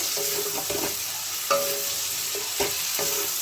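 Spice masala stir-fried in oil for a Bengali prawn curry, a dense steady sizzle with repeated scraping spoon strokes against the pan, close and even, no talking.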